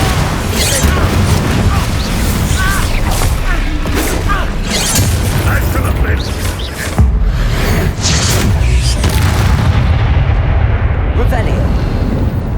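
Spell explosions from the Hogwarts Legacy video game, a continuous loud barrage of booms and blasts with layered crackling effects, dense and sustained with hardly a gap.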